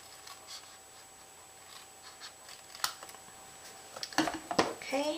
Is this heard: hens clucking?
no